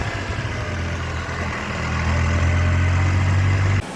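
An RV engine runs steadily while driving along a town street, a continuous low rumble with road noise that swells slightly louder midway before cutting off near the end; no one speaks.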